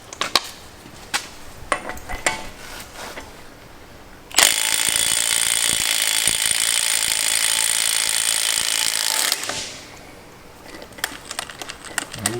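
A Milwaukee M12 stubby 1/2-inch cordless impact wrench hammers steadily for about five seconds during a torque test, loud and close, with scattered clicks and clanks before and after.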